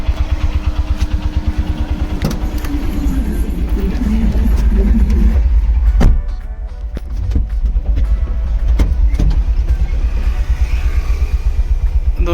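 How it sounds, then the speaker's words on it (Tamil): Heavy city traffic in Coimbatore from inside a delivery vehicle, with a constant low engine rumble, passing motors and occasional sharp knocks or horn bursts throughout. "கோயம்புத்தூரில் செம டிராஃபிக்குங்க."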